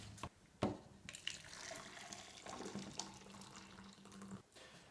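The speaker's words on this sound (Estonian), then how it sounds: "Võta kapsas, tööta väikesteks tükkideks, viska anuma sisse ning vala kuuma vett peale." Hot water pours onto chopped cabbage in a container, giving a steady watery rush with a few sharp knocks at the start, close and moderately loud, with no voices.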